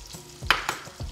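Shallots, about three tablespoons, hitting a hot pan for Spanish-style white beans give a soft close sizzle with a couple of brief stirring scrapes, no voices.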